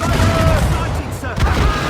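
Volley of ship cannons booming in Assassin's Creed Rogue during a naval battle, dense rumbling blasts layered with crew voices shouting over the gunfire and a musical score.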